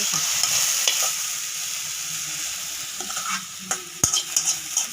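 Chicken and sautéed onions being stirred and frying in a pan, with steady sizzling throughout and sharp scraping clinks of the spoon toward the end, no talking.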